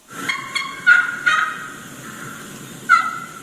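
Wild turkey calls: a hen's short questioning yelps in quick clusters, with a gobbler answering at a distance, a few sharp notes over a faint outdoor hiss.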